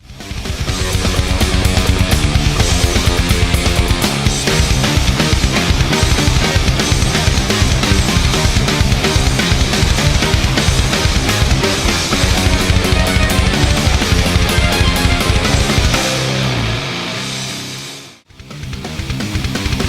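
A single electric guitar from the opening measures of a backing track, panned left, rings out loud and dense throughout with driving rhythm, briefly cutting out near the end before resuming.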